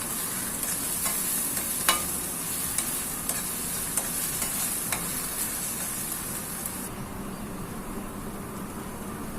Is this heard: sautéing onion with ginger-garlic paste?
yes